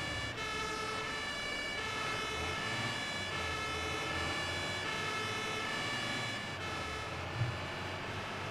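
Fire engine sirens from a firefighting simulator game, a continuous wailing siren over a dense, loud engine and road drone, steady throughout without speech.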